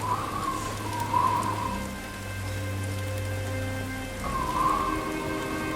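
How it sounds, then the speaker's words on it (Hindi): Heavy rain in a storm falls steadily over a fishing scene, a constant wash of sound under sustained background tones, with no talking. "आज तो तेज बारिश और तूफान भी तेज है।"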